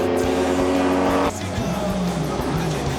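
A Toyota Levin race car fitted with a 3-litre twin-turbo engine roars loudly at high revs, then the note drops sharply as it shifts or lifts, with tyre noise and a rougher burbling exhaust following.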